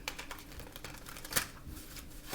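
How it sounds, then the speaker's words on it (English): A deck of tarot cards is shuffled by hand, giving soft, quick riffling and flicking taps in an irregular rhythm, faint and close, with no talk. "I've been shuffling for a minute."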